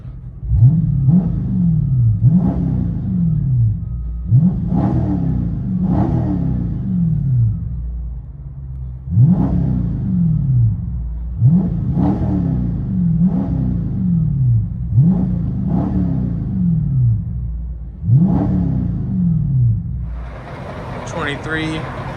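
Inside the cabin of a 2023 Dodge Charger Super Bee with a 6.4L HEMI V8 and mid-muffler delete, the engine is revved again and again in close, deep bursts that rise and fall back, with brief pauses between them and light talk in places.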